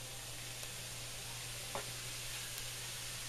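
Steady, even sizzling hiss of ground beef cooking in a hot pan, continuous and fairly soft, with a faint click partway through.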